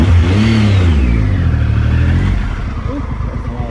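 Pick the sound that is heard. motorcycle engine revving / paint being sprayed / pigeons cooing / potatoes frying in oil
motorcycle engine revving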